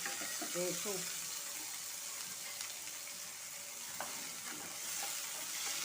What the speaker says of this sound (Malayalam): നന്നായി ഒന്ന് നന്നായി ഒന്ന് വഴറ്റിയെടുക്കുക